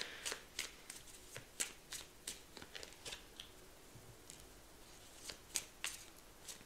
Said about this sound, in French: Et je vais vous prendre quelques dernières cartes.